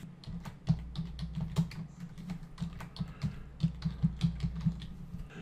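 Fingers type on a computer keyboard in quick, uneven bursts of soft clicking keystrokes, close and clear with no speech.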